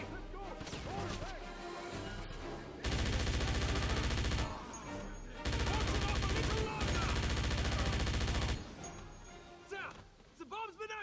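Gunfire from the Wolfenstein video game: dense bursts of rapid automatic shots in two long sustained volleys, loud and close, with scattered single shots and clatter around them.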